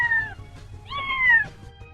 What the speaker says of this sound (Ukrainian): Кіт тато, кішка мама.